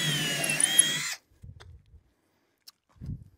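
A power drill drives screws into sauna wall boards during a Thermory sauna build, with one loud whirring run followed by short, quieter bursts of the drill near the mic.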